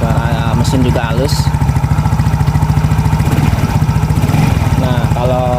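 A Yamaha Mio J scooter engine idles evenly and close by in a fast, steady putter, while someone talks over it.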